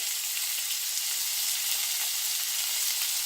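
Loud, steady sizzling of chopped onions and green chillies frying in hot oil, a continuous crackling hiss close up with no talking.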